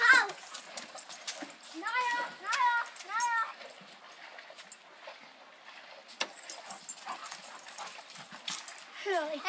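Pet dogs near a house let out repeated short whines and yelps in bursts, fairly close, mixed with people talking and some jangling in the background.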